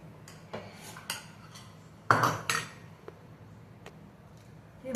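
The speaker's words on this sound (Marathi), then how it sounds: "कोथिंबीर टाकून हे छान मिक्स करून" A spoon stirs chopped coriander into a mixture in a bowl, giving a few light clinks and scraping knocks against the dish over quiet background.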